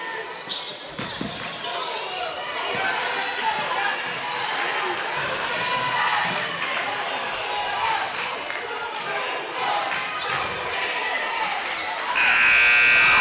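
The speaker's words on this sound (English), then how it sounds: "Three-point at the buzzer, no good for Jarrell, and that's going to take us to the fourth period" Buzzer ending the third period of a bi-district boys high school basketball playoff, Gatesville vs Jarrell, sounds as a loud, sustained blare in the final second, over steady gym crowd noise and ball bounces.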